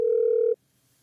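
A phone call's ringing tone heard through earphones, a single steady electronic tone lasting about half a second before cutting off to near silence.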